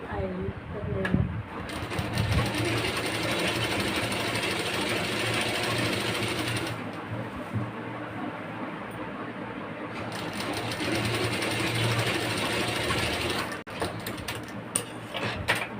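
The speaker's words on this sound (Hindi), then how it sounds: "अब देखिए आप लोग सीधे की तरफ हम बेल्ट को मोड़ कर सिल रहे हैं।" Sewing machine stitching a folded-over waistband belt onto a petticoat, its steady mechanical whir running almost throughout with a few brief pauses, while someone talks over it.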